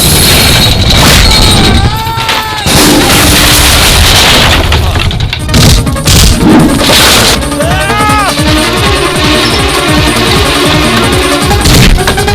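Loud gunshots crack out a few times amid a dense, noisy mix of shouting voices and dramatic music.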